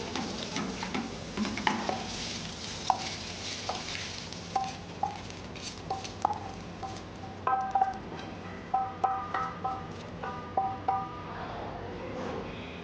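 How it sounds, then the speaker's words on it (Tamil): Spaghetti is tossed in a pan with fried garlic, with soft sizzling underneath. Metal utensils scrape and clink against the pan in repeated bursts that come closer together toward the end. "கார்லிக் ஃப்ரை ஆகிருந்து அந்த ஸ்பெகதி போட்டு டாஸ் பண்ணிகிட்ருக்கோம்"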